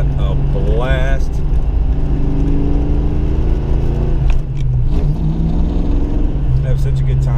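A 1988 Fox-body Mustang engine accelerates with a loud, steady, low rumble that climbs in pitch, recorded from inside the car with people talking over it.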